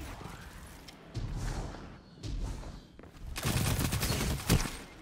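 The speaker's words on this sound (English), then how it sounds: "Just abusing the SMGs now." Rapid submachine-gun bursts fire in a competitive shooter match, dense crackling volleys swelling loudest near the end with thumps underneath, broken by brief lulls.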